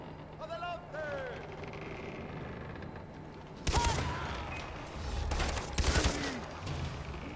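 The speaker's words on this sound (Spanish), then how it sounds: "Estoy en la ametralladora pesada." Heavy machine gun bursts in the Far Cry 4 video game, loud rapid fire in two clusters over a background of game ambience, with a voice speaking early on.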